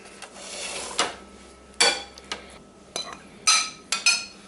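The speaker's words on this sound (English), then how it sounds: "kind of mushing it out on the tray with a spoon works well too" A metal spoon scraping and mashing shredded cooked beef on a tray, with about eight sharp clinks and scrapes at an irregular pace and quiet gaps between them, close by and without speech.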